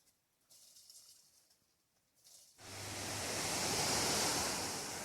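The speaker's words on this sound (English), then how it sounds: "there's a pipe down there shooting water out" Water shoots out of a pipe below a hiking trail, starting faint behind quiet outdoor sounds and then surging into a loud, steady rushing roar that holds to the end.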